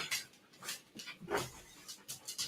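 A dog pants nearby in quick, soft, rhythmic breaths, fairly faint and with no other sound around it.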